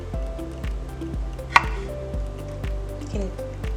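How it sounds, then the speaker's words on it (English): Knife chopping a strawberry in half on a board, a series of soft, evenly spaced dull thuds with one sharper click in the middle, quiet and close. "You can just chop that in the middle."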